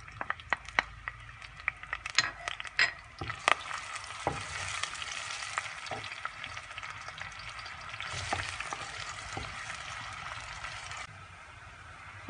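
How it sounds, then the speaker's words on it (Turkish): Onions sizzle and crackle steadily in hot oil in a pot, cooking for a green lentil dish, with occasional stirring clicks against the pot, close and continuous, no voices. "Yağımızı tenceremize aldık, kızdırdık. Şimdi soğanlarımızı kavuruyoruz."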